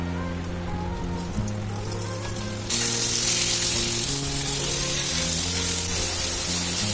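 Cut raw mango for a Bengali chutney drops into hot mustard oil with five-spice and a dried chilli, a loud steady sizzle that jumps brighter and stronger partway through, over soft background music.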